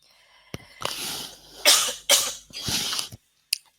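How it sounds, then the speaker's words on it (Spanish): A person coughs several times in quick succession, close and fairly loud, harsh bursts separated by short breaths, followed by one brief final cough. "Tengo tos, así que sepan disculparme."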